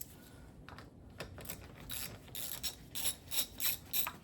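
A ratchet with a 3/8 socket works a 10 mm bolt loose on a Toyota RAV4, giving close, rhythmic buzzing clicks. The strokes grow louder and more regular toward the end.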